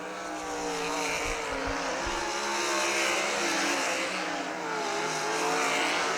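Sprint cars of the Great Lakes Super Sprints race around Millstream Speedway, a steady loud roar of engines holding across the whole stretch, with a nearby car's pitch rising and falling as it passes.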